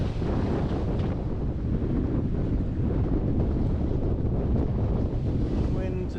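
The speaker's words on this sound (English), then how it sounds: "And today we have a close reaching wind, and Sacha is nailing it." Steady, loud wind buffets the microphone while a sailboat reaches across the Markermeer, with a constant rushing roar and faint water sounds underneath, no break in the gust noise.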